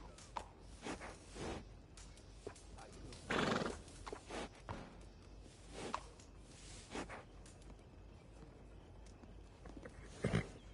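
Several horse whinnies ring out at intervals over a steady clip-clop of hooves, with one loud neigh near the start and another at the end.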